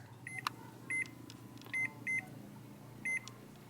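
Oven timer chirps as buttons are pressed to set it, a series of short, close, high electronic beeps, mostly in pairs with a single one at the start, in a quiet kitchen.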